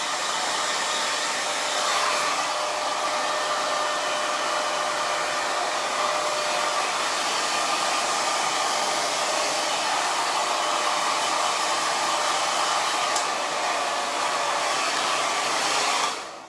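A hair dryer blows on hair in a steady, loud, unbroken whoosh that holds for the whole stretch before cutting off at the very end, with no voices.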